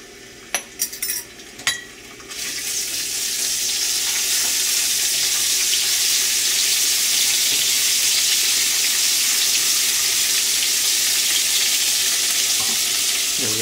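Garlic and ginger hit hot oil and burst into a loud, steady sizzle after a few light clinks, frying continuously and close with no talking.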